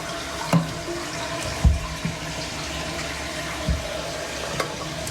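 Water running and filling up under a sink after the shutoff valve is turned on, a steady close rush with a few soft knocks and splashes.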